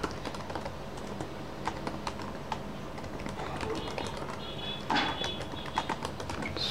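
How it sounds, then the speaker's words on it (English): Rapid clicking keystrokes on a computer keyboard while an email address is typed, a steady close run of taps with a brief louder burst near the end. "you have to type your email address"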